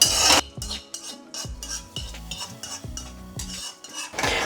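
A spoon scrapes and clinks against a pan in steady, repeated stirring strokes while vermicelli roasts for payasam, close and clear, with no talking.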